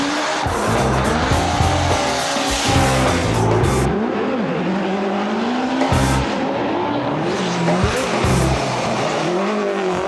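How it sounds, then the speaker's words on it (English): A drift car at Erie Speedway roars at high revs through a clutch kick, its tires squealing loudly and continuously as the engine note surges and dips, with brief lifts around four and eight seconds before pulling hard again. "I am doing a clutch kick at Erie Speedway"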